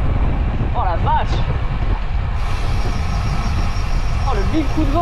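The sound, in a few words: strong gust of wind while cycling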